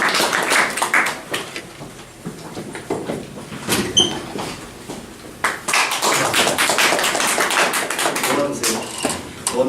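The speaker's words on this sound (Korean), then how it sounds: "우리 박수로 환영해 주세요." An audience at a lecture event claps to welcome a speaker, with uneven rounds of hand claps that swell and thin over several seconds and a few voices mixed in.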